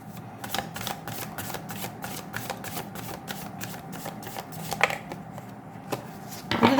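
A deck of oracle cards being shuffled, giving quick repeated riffling snaps and soft slaps at a close, quiet level, with a few sharper clicks toward the end.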